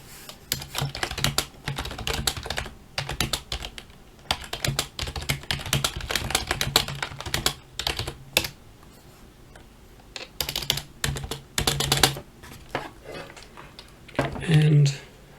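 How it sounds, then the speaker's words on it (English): Fast typing on an old computer keyboard, heard close up: dense bursts of clacking keystrokes broken by short pauses. "Old keyboard."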